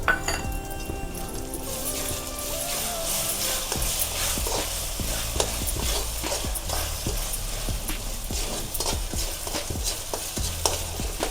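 Ginger garlic paste and onions sizzle in a pan for pav bhaji, under busy stirring, with a spoon scraping and clinking against the metal in an irregular rhythm. The sounds are close and fairly loud, and no one talks.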